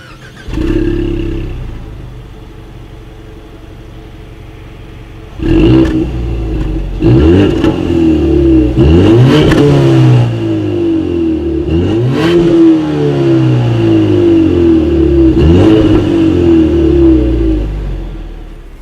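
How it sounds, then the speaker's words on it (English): A 2019 Mazda CX-5 idles, then revs hard through its dual exhaust several times, each blip rising to a throaty roar and falling back to a low rumble. "As always, here is that exhaust clip."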